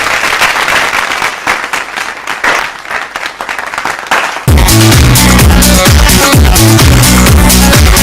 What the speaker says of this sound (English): Let's give them a big, big round of applause for their show